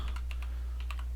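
Typing on a computer keyboard while working in Unreal Engine 4.26: a short run of light, quick keystrokes, fairly quiet, over a low steady hum.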